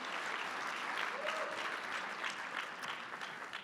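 Conference audience at a plenary session clapping in warm, even applause, a sustained wash of many hands at moderate volume that fades slightly toward the end.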